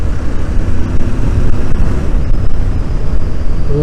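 A Royal Enfield Interceptor 650 twin-cylinder motorcycle runs loud and close, its engine a steady, dense rumble with no gaps and no voices over it.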